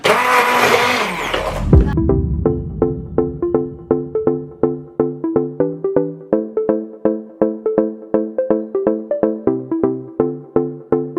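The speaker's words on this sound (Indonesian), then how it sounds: "Sekarang kita haluskan." Boiled sambal ingredients are ground in a blender, a loud, close whir lasting about two seconds before it cuts off. A steady rhythmic pattern of plucked tones follows.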